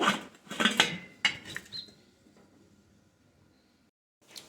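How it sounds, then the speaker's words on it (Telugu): Metal idli plates set into an idli steamer pot: a few clattering, clinking metal knocks close by in the first second and a half, then quiet with faint rattles and one last clink at the end. "ఇప్పుడు ఇడ్లీ పాత్రలో ఇడ్లీ ప్లేట్లను వేసుకోవాలి."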